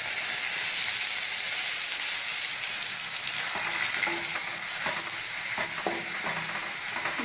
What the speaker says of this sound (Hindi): अब इसमें मैं प्याज का पेस्ट डाल रही हूँ।